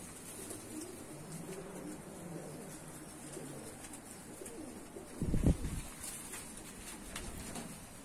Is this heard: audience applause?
no